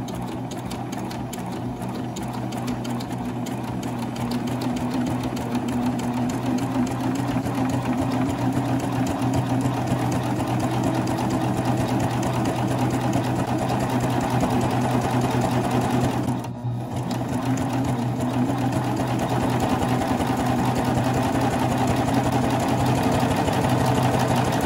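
A Baby Lock serger with a double fold bias binder foot stitches fabric in a continuous fast mechanical whir and hum, close and steady for the whole stretch, with one brief dip near the middle.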